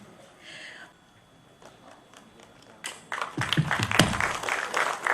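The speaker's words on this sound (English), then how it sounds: "That was a great round of applause." An audience at a literary talk breaks into applause to welcome a speaker, starting faintly with scattered claps and swelling into louder, fuller clapping over the last two seconds.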